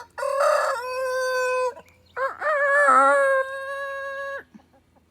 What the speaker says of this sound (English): we got some chickens as well